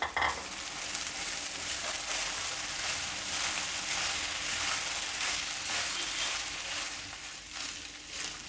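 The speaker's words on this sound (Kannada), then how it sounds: "ಅದನ್ನು ಈಗ ಇದರ ಒಗ್ಗರಣೆಯಲ್ಲಿ ಸೇರಿಸಿ ಚೆನ್ನಾಗಿ ಫ್ರೈ ಮಾಡಬೇಕು" Steady, dense sizzling of leftover cooked rice frying in a hot oil tempering, continuous and close, with faint stirring scrapes throughout and no talking.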